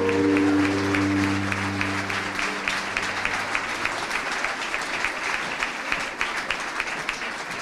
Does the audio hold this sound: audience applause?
yes